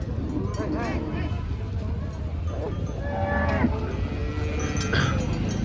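Several HF and Jersey cows moo repeatedly at a cattle market in Chalisgaon, amid a busy, crowded background of traders talking, with occasional clanks like cowbells.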